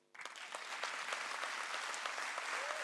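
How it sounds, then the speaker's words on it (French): Audience applause at a slam and spoken-word awards night in Guadeloupe swells quickly and holds steady, dense clapping filling the room, fairly distant, with no voices on top. "vos applaudissements s'il vous plaît."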